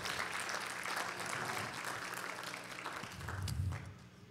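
Congregation clapping hands during a church service, a steady, fairly quiet wash of many hands clapping together without pause, with a low rumble near the end.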